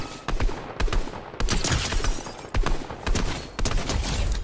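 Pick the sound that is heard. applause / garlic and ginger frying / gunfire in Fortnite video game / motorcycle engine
gunfire in Fortnite video game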